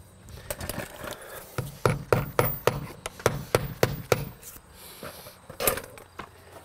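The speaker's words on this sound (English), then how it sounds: "and then nail this in the wall." A vinyl siding offcut is nailed to an exterior wall with a hammer, about a dozen sharp, close strikes in an irregular rhythm, some in quick pairs, with light rustling between them.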